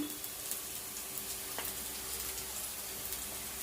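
Onions sizzle in a pan after ginger garlic paste goes in, for Telangana-style bagara rice. The frying is quiet and even, with faint crackles and no voice.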